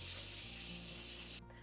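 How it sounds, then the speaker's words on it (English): Dollhouse furniture gets a light hand sanding before repainting, a quiet, steady abrasive rubbing that continues for over a second and then stops abruptly. "Then I gave everything a light sanding so that the new paint adheres better."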